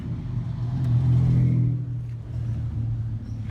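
A loud car with no muffler passes nearby, its deep engine roar swelling to a peak over about a second and then easing off into a steady low rumble.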